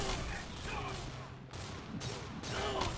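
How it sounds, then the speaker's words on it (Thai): A shotgun fires in a video game's PVE mode, with several heavy blasts in a quick uneven run of bursts, loud and close, while someone talks over the shots. "โอเคมาลองยิงนะครับ"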